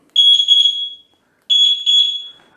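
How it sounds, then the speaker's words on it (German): Horn of a Ninebot Max G2 D electric scooter sounds two clean electronic beeps, each lasting about a second with a short gap between, loud, close and alone. "Und auch die Hupe"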